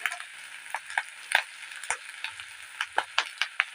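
Onion, garlic and ginger paste with turmeric frying in a pan, a soft sizzle broken by irregular sharp crackles and spatters, close and fairly quiet.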